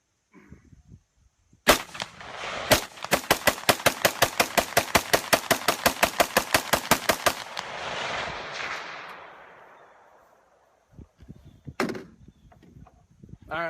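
Gunshots from a rifle fitted with an aftermarket Geissele trigger: two single sharp shots, then a fast, steady string of roughly twenty loud cracks with a rolling echo tail, and one more isolated shot near the end.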